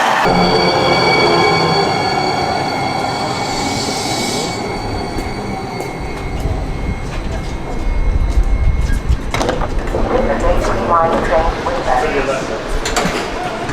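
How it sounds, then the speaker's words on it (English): Inside a moving train, wheels rumble and squeal on the rails in a continuous loud clatter, with a sliding-door hiss and swelling track noise midway; faint voices sit beneath the racket. "We're on the train right now"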